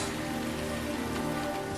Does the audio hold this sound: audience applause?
no